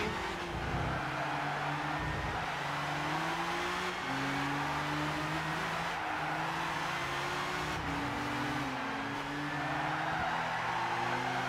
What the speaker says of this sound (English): There's a 370 Z's going as fast as they possibly can.